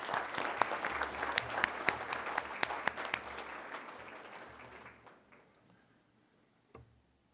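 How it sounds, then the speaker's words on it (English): A round of applause from attendees at a June 2019 board meeting, with steady clapping from a room of people that fades out after about five seconds, leaving a quiet room and one stray tap near the end. "Another round of applause."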